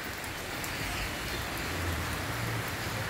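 Steady rain falling outdoors near an old hilltop castle fortress in Bellinzona, Italian Switzerland, a continuous broadband hiss at even loudness with no talk.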